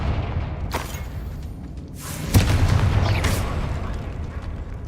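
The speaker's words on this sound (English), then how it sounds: "Confringo." A Confringo fire spell from the Hogwarts Legacy video game goes off as a sharp booming blast, loud and near, with a rumbling fiery tail that rolls on for a couple of seconds after a softer whoosh.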